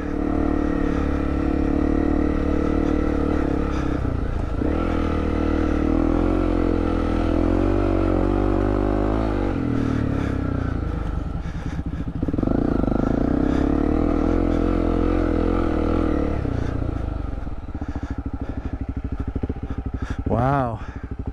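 A Honda CRF250L dual-sport motorcycle is ridden on a Vancouver Island trail, its engine droning loud and steady throughout with gear changes and rising and falling revs, while a rider's voice talks over the engine noise.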